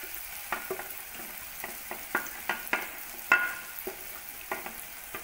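Tomato and chili frying in a pan with garam masala, coriander powder and turmeric: a steady soft sizzle broken by a dozen sharp, irregular scrapes and clacks of a spoon stirring against the pan, close by, with no talking.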